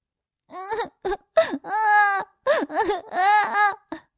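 A small baby cries in a run of loud, wavering wails and short sobbing bursts, close up and alone, in a children's story set in the cold.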